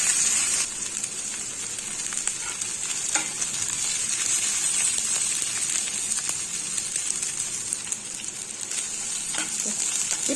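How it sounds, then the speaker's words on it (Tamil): A handful of coriander leaves sautéing in a pan for potato rice, giving a continuous bright sizzle with light stirring scrapes, loud and close and without talk. "இதில் வந்து நம்ம ஒரு கைப்பிடி கொத்தமல்லி தழை, இதையும் நல்லா வதக்கிக்கணும்."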